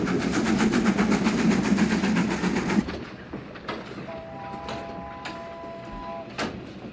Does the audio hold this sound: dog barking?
no